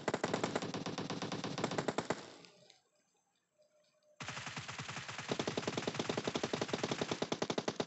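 Rapid automatic gunfire in PUBG Mobile rattles in loud sustained bursts, breaks off into near silence for about a second, then resumes at full intensity for several more seconds.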